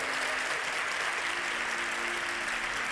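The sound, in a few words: audience applauding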